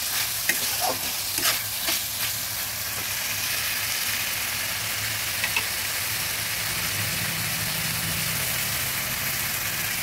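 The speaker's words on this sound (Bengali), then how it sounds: "এবার দিয়ে দেব কুচানো টমেটো।" Chopped tomato hits a pan of spiced, sautéed base for a Bengali koi fish and potato curry, giving a continuous close sizzle with a few spatula clinks and scrapes early on, with nobody speaking.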